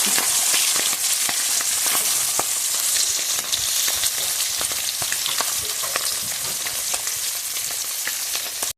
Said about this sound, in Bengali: মাছটা ভাজা হয়ে গেছে, এবার এটা তুলে নেই